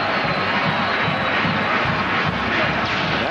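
A packed stadium crowd roars steadily at a Texas A&M versus Kansas college football game in 2006, a dense, loud wall of cheering with a commentator's voice faintly mixed in.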